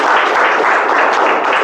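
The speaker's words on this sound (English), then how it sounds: "A big round of applause for Vamshi." Continuous applause from the audience at a Toastmasters meeting, many people clapping at an even, full level throughout the short stretch.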